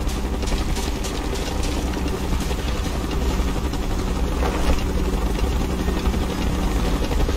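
Helicopter approaching in the video game Call of Duty Black Ops 2, a loud, steady rotor thump and engine roar filling the scene without a break.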